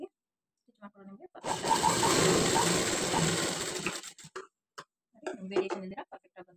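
A sewing machine stitching patchwork fabric, running in a steady close mechanical whir for a few seconds with short bursts of light stitching before and after, along with a few brief taps.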